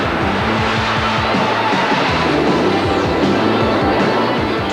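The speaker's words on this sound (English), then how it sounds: "And what would an evening at the IHRA races be without jet cars?" A jet-powered drag car at a 1992 IHRA drag race in Norwalk gives off a loud, continuous turbine roar with a rhythmic rumbling pulse, close and unbroken for several seconds.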